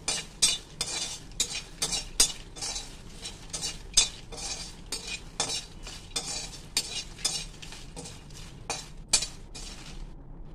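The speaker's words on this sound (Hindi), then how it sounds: "और इस तरीके से मखाने को फ्राई कर" Fox nuts (makhana) sizzle gently in homemade ghee while a spoon stirs and scrapes against the pan in an irregular rhythm of close clinks and rustles, with no talking.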